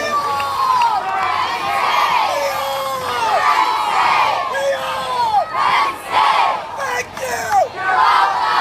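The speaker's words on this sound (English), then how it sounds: "Can we get a round of applause for these alumni, please?" An audience at a Penn State THON event cheers loudly for alumni, with a dense roar of whoops and shouts rising and falling in waves, close and energetic throughout.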